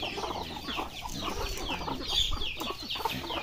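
Farm chickens cluck and chatter together at close range in a rural provincial yard, a busy overlapping stream of short calls with no talk.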